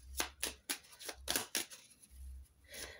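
Tarot cards are shuffled and handled close by in a quick series of crisp riffling bursts and soft slaps, with short gaps between them.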